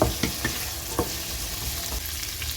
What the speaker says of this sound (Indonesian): Masukkan wortel, kemudian putren atau baby corn. Aduk.